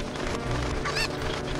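Cuckoo chickens in The Legend of Zelda: Ocarina of Time give short clucking squawks and honk-like calls, loud and close over a busy game backdrop, with a sharper cry near the middle.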